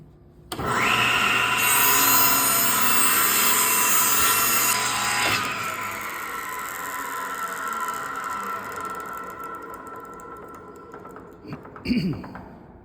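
A table saw whines up loudly and cuts a two-sided taper in wood, the blade's steady roar lasting several seconds before spinning down, followed by a brief knock near the end.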